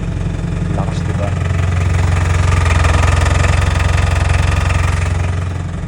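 A car engine with a worn engine support runs close and loud after starting, shifted from neutral into drive, its steady rumble carrying a heavy pulsing vibration throughout.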